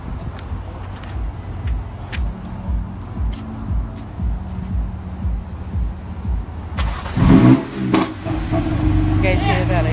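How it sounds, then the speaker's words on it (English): A 2016 BMW M4 GTS sits idling with a low, rhythmic exhaust throb, then the engine fires up with a loud burst and settles into a stronger, steady rumble. A person talks over it. "I'm going to start the car now and give you a listen."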